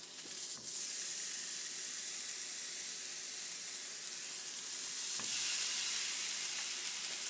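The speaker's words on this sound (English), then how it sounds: "Just move the tofu around if you need to stop it from sticking." Tofu frying in a pan with no added oil, a continuous bright hiss and sizzle at moderate level, with a couple of brief utensil touches as the pieces are moved, and no voices.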